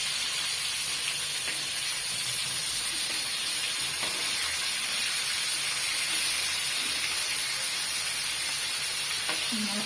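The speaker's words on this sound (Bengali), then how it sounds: "এই যে মাছটা ভেজে নিচ্ছি" Pangas fish fries in hot oil with a continuous dense sizzle and hiss, steady and close, with occasional faint pops and clinks underneath.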